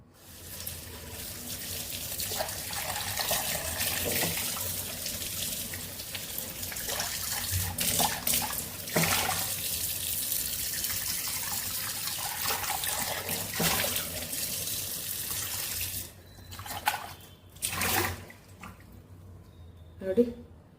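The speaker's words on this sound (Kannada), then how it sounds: "ನೋಡೋಣ ವಾಶ್ ಮಾಡಿ ನೋಡ್ತೀನಿ." Tap water runs steadily into a sink while a reusable dish cloth is washed, a continuous splashing stream that breaks into a few separate splashes and drips near the end.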